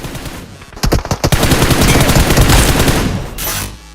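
Rapid assault rifle bursts from the mobile battle-royale game BGMI/PUBG Mobile, loud and close, with dense repeated shots and a few separate cracks before a sustained volley that tapers near the end.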